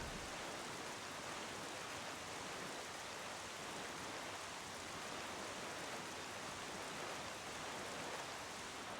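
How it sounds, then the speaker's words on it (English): Steady rain falling on open ocean in the video game The Legend of Zelda: The Wind Waker, a dense, even hiss that holds unbroken throughout, soft and without voices. "Ah, rain on the ocean."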